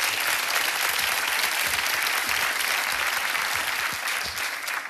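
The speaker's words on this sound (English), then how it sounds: "give him a round of applause" A game-show studio audience bursts into dense, sustained applause for a contestant, a loud unbroken wash of clapping lasting about five seconds.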